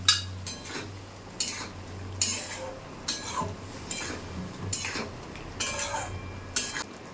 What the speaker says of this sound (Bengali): ঝোলটা ফুটে এসছে এবারে আমি এর মধ্যে পনিরগুলো ঢেলে দিচ্ছি